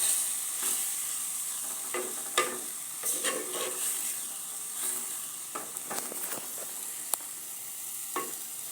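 Ingredients for bread kothu sauté in a pan. A soft, quiet sizzle runs throughout, punctuated by scattered spatula scrapes and clinks.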